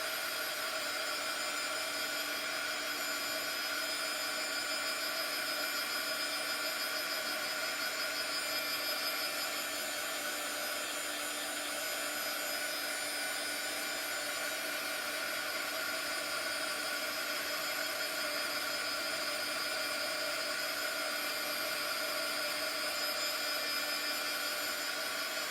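A hair dryer blows on artwork, a steady, loud, unbroken whooshing hum that runs the whole time with no talk over it.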